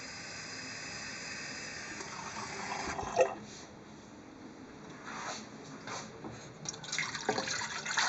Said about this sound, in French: On verse l'eau dans la cuve.